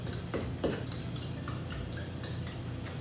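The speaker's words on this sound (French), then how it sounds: "je vais mélanger, battre l'œuf pour avoir le jaune et le blanc séparés" A fork beats an egg in a bowl for cheese biscuits, making quick rhythmic clinks and taps against the bowl, fairly close and steady, with no talking.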